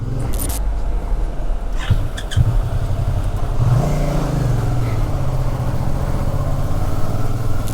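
A motorcycle rides over a broken mountain road on the way to Manali, its engine droning steadily up close with a few rattling knocks and jolts. Partway through the engine rises a little as the bike pushes on.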